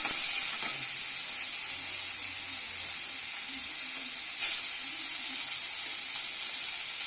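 Green chili, spring onion, cinnamon, cloves, fennel and bay leaf sizzle in hot oil, a loud, steady, close frying hiss that runs unbroken throughout with no voices.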